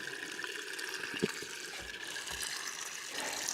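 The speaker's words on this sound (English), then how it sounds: "This is all the water that's coming out." Water from a sprinkler system pipe drains in a steady, gushing trickle heard up close, with a few faint knocks mixed in.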